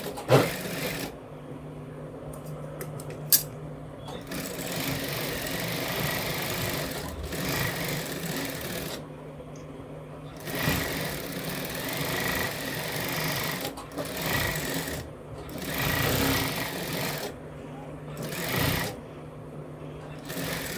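A sewing machine stitching a blouse runs in a steady, continuous mechanical whir near the listener, with brief stops and restarts and occasional clicks from handling the fabric.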